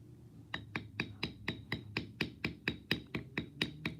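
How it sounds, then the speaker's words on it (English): A mallet strikes a small round bevel tool into leather during tooling, a steady series of about fifteen sharp, evenly spaced taps, close and moderately loud with no talking. "this bevel here, that little round bevel, works really good around those inside curves"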